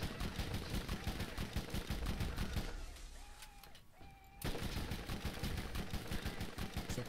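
Rapid, loud bursts of corrosive-weapon gunfire in the Borderlands video game, near and fairly steady, break for a brief quieter stretch with a reload click and faint tones, then resume firing.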